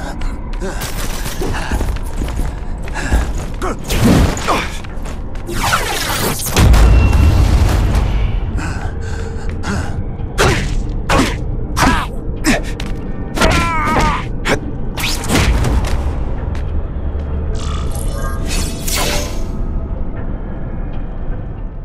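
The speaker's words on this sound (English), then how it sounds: "Spidey dance party! Well, more of a seismic blast, really." Seismic blast attack in The Amazing Spider-Man 2 video game, a heavy booming impact with a deep thud followed by a series of sharp crashing hits and thwacks, loud and close amid game combat noise.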